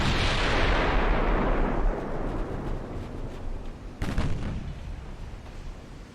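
Heavy 18-inch naval guns fire in the warship game Ultimate Admiral: Dreadnoughts, a loud deep boom rolling off into a long rumble, then a second sharp blast about four seconds later, with no talking.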